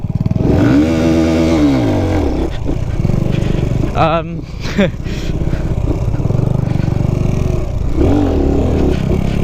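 A loud motorcycle engine revs up and down close by, rising and falling in pitch with a throaty roar.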